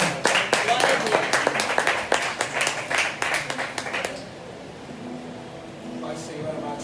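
Church congregation clapping in praise during a consecration service: a burst of dense, overlapping claps for about four seconds, then it stops abruptly, leaving quiet room tone with faint voices.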